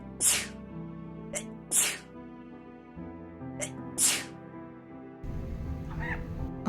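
Three sharp, loud human sneezes burst out indoors near a pet budgerigar, spaced a second or two apart, with soft bird chirps and light background sound between them.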